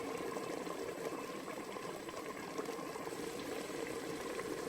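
Chorba soup simmers gently in a pot, a soft continuous bubbling hiss heard close and alone, faint but steady throughout.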